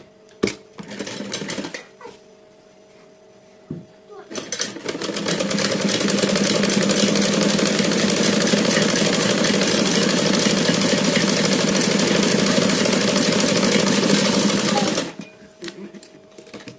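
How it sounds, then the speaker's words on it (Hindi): An electric sewing machine stitching the slips of an umbrella frock runs steadily for about ten seconds, a close, even whir, with someone talking briefly before and after. "ऐसे करके सिलाई लगा लेंगे स्लिप्स में"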